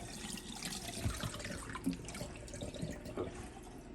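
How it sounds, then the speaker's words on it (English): Dirty vinegar water splashes and trickles from potatoes into a sink, faint and uneven, with a few soft knocks and drips as liquid drains away. "we're going to drain this dirty vinegar water off of them."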